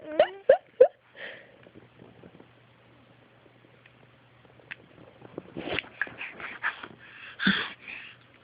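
A cat sneezes in a few sharp bursts at the start, then after a quiet stretch comes a cluster of close snorts and breathy sneezes. Light handling noise is mixed in.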